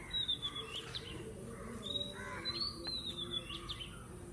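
Birds chirp and whistle in thin, high calls, several in a row, over a soft hum of insects.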